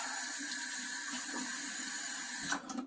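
Tap water runs steadily into a sink as lettuce is rinsed, a continuous close hiss and splash that shifts briefly near the end.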